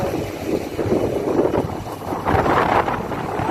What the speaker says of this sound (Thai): เรือกำลังจะออกนะคะ ต้องจับกองซ่อมเมื่อแบบไม่อยู่นะคะลมมันแรงแรงนะ